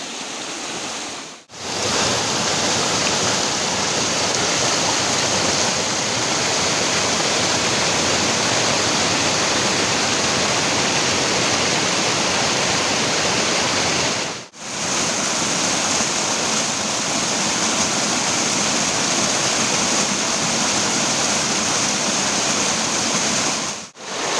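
Kallampara Chola waterfall roars as a continuous broadband rush of falling water, close and loud, interrupted only by two brief cuts.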